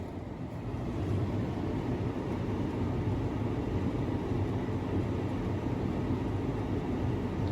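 A gas furnace blower runs with a steady, broadband whooshing rumble that swells up after the first second and holds constant, with no talking.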